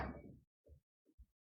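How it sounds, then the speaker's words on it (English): Knocking in a staged comedy Macbeth performance: after a fading noise, three dull, hollow knocks sound in a short uneven sequence, fairly faint and alone. "Whence is that knocking?"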